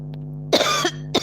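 One person coughs twice in a quiet room over a steady low hum: a longer rasping cough, then a short sharp one.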